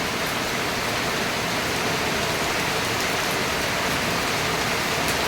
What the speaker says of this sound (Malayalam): ഭയങ്കര മഴ പെയ്തോണ്ടിരിക്കുക